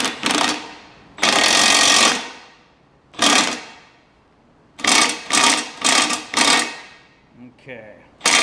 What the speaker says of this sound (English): I was tightening it, and you can hear the impact on and off, on and off